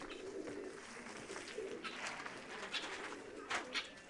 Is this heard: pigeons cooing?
yes